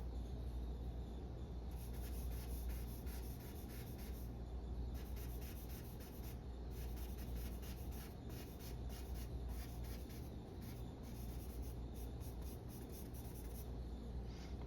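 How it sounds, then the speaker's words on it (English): Vine charcoal is dragged across drawing paper while shading an eye, a faint, steady scratchy rasp in repeated strokes with brief pauses between them, close and quiet. "I am going to use my Vine charcoal."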